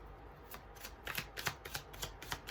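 A deck of tarot cards is shuffled close by, with repeated riffling flicks and soft card slaps in a steady rhythm, with no talk over it.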